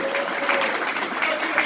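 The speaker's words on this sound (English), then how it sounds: "Give yourselves a round of applause." Brief burst of steady applause from a comedy club audience at a stand-up show, with a faint tonal whistle or cheer mixed into the clapping.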